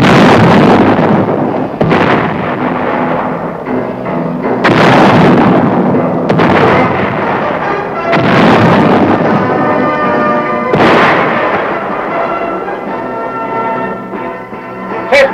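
Tank main guns firing during crew gunnery training, a series of loud booming blasts about every two to three seconds, each with a rolling echo, over a steady rumble of engine and wind.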